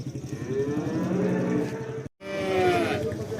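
A young Simmental cow at a livestock market moos loudly and close by, a long low call that breaks off briefly, then another drawn-out moo follows.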